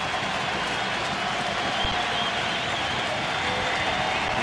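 Baseball stadium crowd at a Texas Rangers game in Oakland, a broad, steady roar of cheering fans filling the park without pause, dense and distant.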